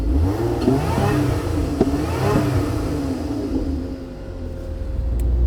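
A Lotus Emira's supercharged V6 automatic revs in sport mode, two or three rising blips of engine note heard from close by, dipping to idle in between.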